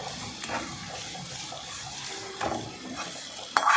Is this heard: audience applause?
no